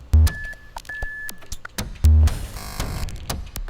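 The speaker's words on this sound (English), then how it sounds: "These little noisy loops with beep," Loud electronic loops from the KlirrFactory module in VCV Rack, with sharp beeps and bleeps, a sustained tone, noisy bursts and thumping low hits in a choppy, repeating pattern.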